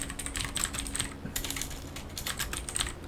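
Quick, steady keystrokes on a computer keyboard, close and clear, rattling on continuously for a few seconds with no voices.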